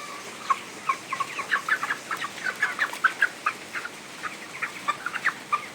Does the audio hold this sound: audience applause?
no